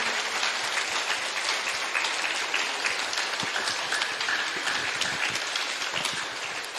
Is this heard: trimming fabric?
no